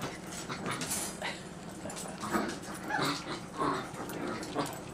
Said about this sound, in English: That's the alpha male puppy barking.